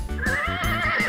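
A horse neighs in the Super Z alphabet video game, a clear, loud whinny with a rising and wavering pitch, heard alone for about a second.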